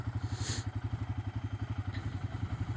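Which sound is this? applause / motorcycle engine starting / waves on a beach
motorcycle engine starting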